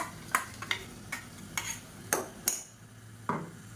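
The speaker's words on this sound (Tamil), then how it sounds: "இதையும் சேர்த்து நல்லா வதக்கி விட்டுக்கலாம்" Blended tomato and masala being sautéed in oil for a radish and egg kulambu, with a spoon stirring and scraping the pan in repeated short strokes over a soft background sizzle.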